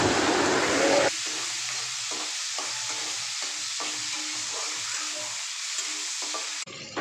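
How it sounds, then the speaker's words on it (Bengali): Shrimp rubbed with salt and turmeric fry in oil with black cumin. A loud hiss at the moment they go in settles into a steady sizzle with bubbling crackle. "এইবারে নুন হলুদ মাখানো চিংড়ি মাছগুলো দিয়ে দিচ্ছি। একটু হালকা করে ভাজা ভাজা করে নেব"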